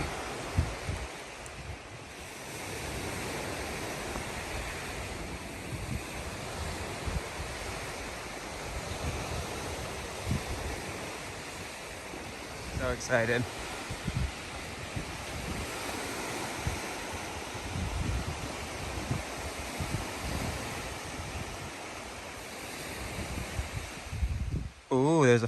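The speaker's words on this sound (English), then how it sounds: "Got the waves as your neighbor the entire time." Ocean surf washes steadily onto the shore beside a hiking trail on the North Country Trail, a constant broadband roar with wind noise buffeting the microphone, and a person briefly speaks over it.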